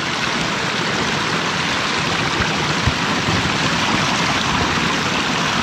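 Water rushes through a beaver dam blocking a river, a loud, unbroken roar of flowing water close by with no pauses.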